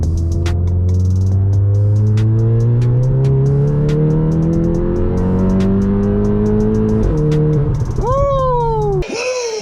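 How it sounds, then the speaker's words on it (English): A big-turbo Volkswagen Golf GTI Mk7 accelerates hard in third gear from about 2000 to 6500 rpm, its engine note rising steadily and loudly under cabin noise, then a gear change and a whistling turbo flutter as the throttle closes. "I have to do a pull on third gear from 2000 RPM all the way to 6500"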